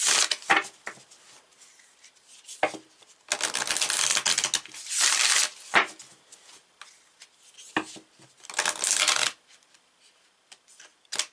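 Tarot cards shuffled and drawn in a reading, several bursts of riffling and flicking card noise close by, separated by brief quiet gaps, with no talk.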